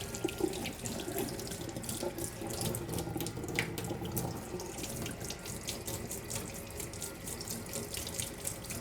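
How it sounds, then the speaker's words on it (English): Hands being washed under a running tap at a sink, a steady close splash of water flowing continuously throughout with no talking. "I'm just going to wash my hands."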